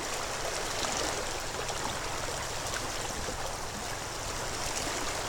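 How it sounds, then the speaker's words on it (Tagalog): Rushing river current and waves in Mindoro, a constant broadband wash of flowing water close by, loud and unbroken, with no talking. "Mataas ang alon."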